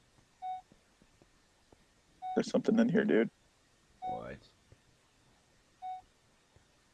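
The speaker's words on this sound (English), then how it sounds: "Hold it in your hand and it beeps." In the video game Alien: Isolation, a handheld motion tracker gives short electronic beeps spaced a couple of seconds apart, with players speaking briefly between the beeps.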